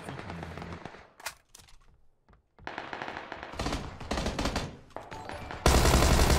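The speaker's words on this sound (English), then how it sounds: "There's no recoil on Tommy gun." Tommy gun firing in a shooter video game, bursts of rapid automatic fire broken by short pauses, loud and close, with the last second a dense, sustained volley.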